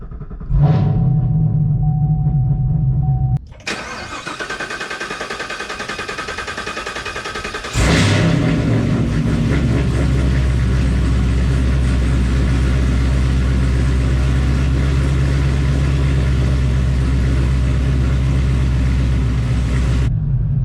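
A Camaro ZL1 fitted with a Magnuson 2650 supercharger, auxiliary fuel pump fuse pulled, cranks with a whirring starter, then catches and fires with a loud burst, settling into a heavy, rumbling, steady idle close by.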